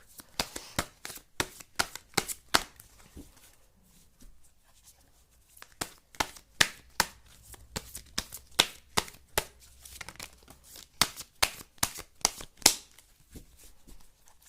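Osho Zen tarot cards being shuffled, a long run of crisp riffling snaps and slaps, steady and close, with brief pauses between bursts and no talking.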